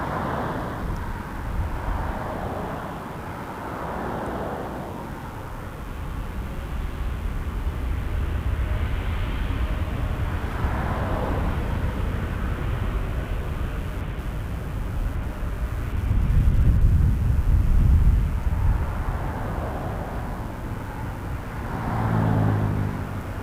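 An Air Canada jet rolls for takeoff on runway 05 at Toronto Pearson Airport, a broad engine roar heard from a distance that swells and peaks midway, then fades under steady wind and outdoor noise.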